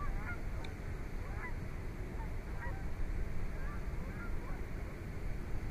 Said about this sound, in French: Des beaux oiseaux.